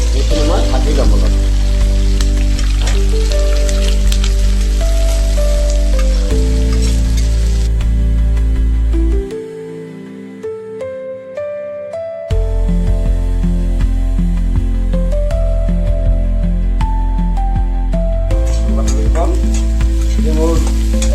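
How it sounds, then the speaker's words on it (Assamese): Cashews, raisins, carrots and beans fry in a pan for a home-style chicken pulao, giving a steady, close sizzle under loud background music with sustained tones. The music drops out briefly partway through. "এইখিনি অকণমান ভজা যাওক, আৰু গাজৰ আৰু বিনছ এইখিনি মই ভাজি ল'ম অলপ"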